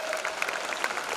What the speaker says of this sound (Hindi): एक बार जोरदार ताली हो जाए हमारे पिछले परफॉर्मेंस के लिए